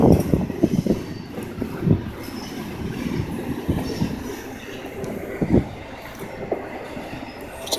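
A Norfolk Southern freight train hauled by GE locomotives rolls past close by at Greenville, a steady rumble with rhythmic wheel clacks and occasional metallic squeals, no voices.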